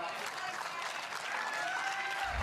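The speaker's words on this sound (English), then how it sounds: "Crowd's loving it here on Championship Court." A crowd at a pickleball championship court claps and cheers in a steady wash of applause, fairly distant and even throughout.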